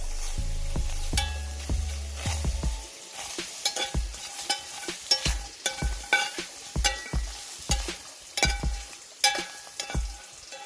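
Crawfish are stirred around in a pot, sizzling steadily while repeated clattering knocks and scrapes come in an uneven rhythm, close and moderately loud, with no talking.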